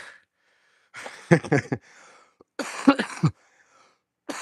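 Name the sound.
cough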